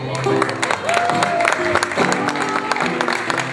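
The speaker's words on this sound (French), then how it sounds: "on peut s'applaudir très fort" An audience claps at an anniversary celebration for the Villeray dans l'Est community project, with lively applause running throughout over music and voices.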